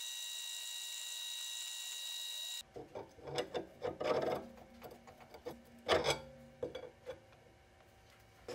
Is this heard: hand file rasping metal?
yes